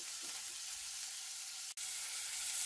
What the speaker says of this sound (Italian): E fate friggere la salsiccia su tutti i lati